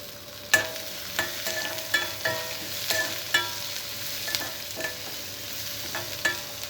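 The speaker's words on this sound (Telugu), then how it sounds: "వెల్లుల్లిపాయ కొద్దిగా ఫ్రై అయిన తర్వాత ఇందులో ఉల్లిపాయ ముక్కలు వేసుకోవాలి" Onion pieces fry in oil with garlic, curry leaves and dried red chillies for an ivy gourd stir-fry, a quiet sizzle punctuated by rhythmic spatula scrapes and clacks roughly every half second, without talking.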